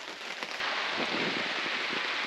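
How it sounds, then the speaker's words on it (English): Heavy rain pours down outdoors in a steady, dense hiss, loud and continuous throughout, with no talk over it. "The rain is coming down pretty hard out there"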